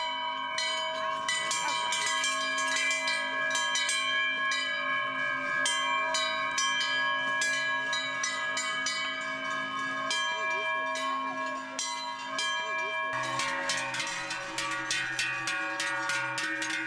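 Many cowbells on an alpine cattle herd returning home from summer pasture in Bavaria, clanking continuously and overlapping in an irregular jangle, close and loud throughout, with a brighter cluster of bells near the end.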